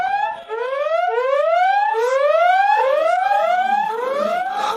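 A warning alarm siren from an animated sci-fi mecha series blares in rapid rising sweeps, one after another. It is loud and close, with no voices over it.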